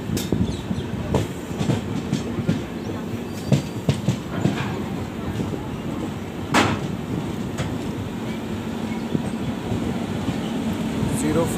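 Passenger train 04651 from Delhi to Amritsar running steadily, a continuous rumble with rhythmic clickety-clack of wheels over rail joints, heard from inside the coach with faint background voices.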